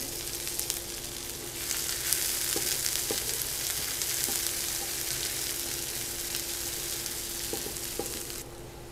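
Onions sizzle steadily in hot oil in a pan for a Bengali mixed vegetable curry, a dense close hiss with a few soft stirring taps, no voices.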